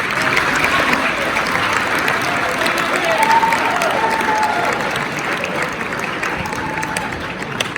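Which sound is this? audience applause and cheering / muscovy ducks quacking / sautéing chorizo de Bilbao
audience applause and cheering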